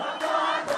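A large crowd at a volunteer parade in Addis Ababa, Ethiopia roars and cheers in a brief, dense burst of many voices.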